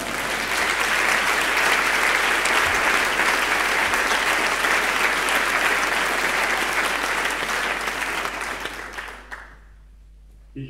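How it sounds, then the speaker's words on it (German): Sustained audience applause from a church congregation, dense and steady for about nine seconds before tapering off into near silence. "ihr habt euch einen Applaus schon einmal gekriegt"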